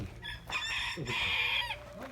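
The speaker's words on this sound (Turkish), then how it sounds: "Bunlar siyah tavuk." Nearby chickens, black and silver hens, cluck and squawk in short bursts at a coop, one drawn-out call standing out, with faint background noise.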